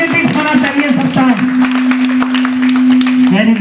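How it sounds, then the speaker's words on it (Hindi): An audience claps loudly and steadily through a motivational talk to students, with a sustained low hum running beneath the applause and a voice briefly audible at the end. "ताली बजाओ अपने लिए अच्छी सी, जबरदस्त तरीके से"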